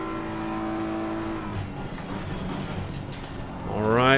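Front-engined race car in Assetto Corsa Competizione completing a lap, its steady engine drone holding pitch before revving upward sharply near the end, with a voice talking over it.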